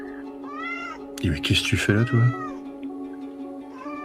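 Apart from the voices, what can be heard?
cat meowing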